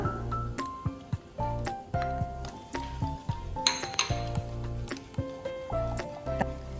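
A utensil mixes a potato salad dressing of mustard, mayonnaise, oil and vinegar in a bowl, making rhythmic, ringing clinks and taps against the bowl at a close, moderate level.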